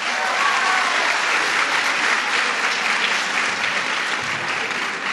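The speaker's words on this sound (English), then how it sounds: "Our UFT staff, let's give them a round of applause." Loud, dense round of applause from a large crowd at a school education event, steady and sustained for the whole stretch with no voices rising above it.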